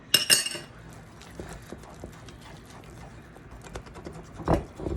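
Pumpkin bread batter with almond flavoring being beaten in a bowl, with close utensil clinks and scraping taps against the dish, a few sharper knocks standing out at the start and near the end.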